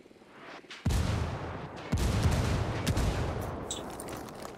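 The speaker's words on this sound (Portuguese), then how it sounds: "Estou pedindo por disparos indiretos. Tá vendo? Lá vai o disparo." An indirect-fire artillery strike lands in Ghost Recon Wildlands, with a sharp blast, then a second heavy impact and sustained rumbling explosions and crackling debris that slowly fade, loud and close.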